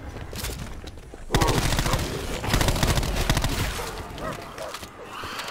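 Rapid bursts of gunfire in Black Ops 4 Zombies, loud and sustained bursts of automatic shots after a quieter opening second, with faint game noise throughout.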